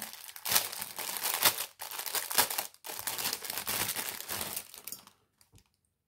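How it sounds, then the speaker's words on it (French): A small pink angel Christmas tree ornament is pulled from its packaging, with steady close crinkling and crumpling of plastic wrap for about five seconds before it goes quiet. "je vais le sortir de son emballage"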